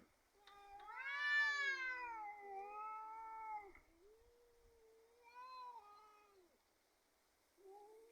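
Cats yowl in long, wavering, drawn-out cries, one rising loudly then trailing off, answered by lower growling moans with pauses between.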